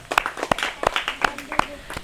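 A small audience at a religious study class claps in a handful of sharp, separate claps spread irregularly through the stretch, close by and mixed with a voice talking.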